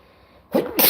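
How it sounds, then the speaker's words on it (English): A single person's sneeze, a sharp two-part burst with an intake and loud release, close and alone after a quiet pause. "Oh, I gotta sneeze."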